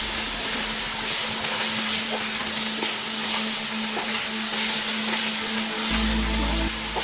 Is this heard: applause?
no